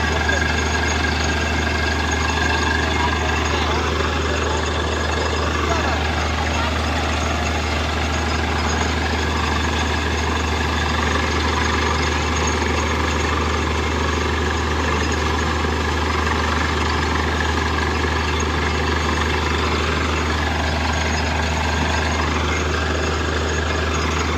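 A truck engine idles close by, a loud, constant low rumble with a steady hum that runs unchanged the whole time, while people talk faintly over it.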